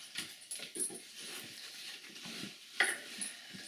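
A returned puppy tangled in his leash pants and shuffles close by, with soft scrabbling, faint whimpers and a brief jingle of tags.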